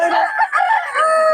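Chickens, roosters among them, sound off up close: loud, continuous clucking and crowing-like calls that overlap with no pauses, no talk.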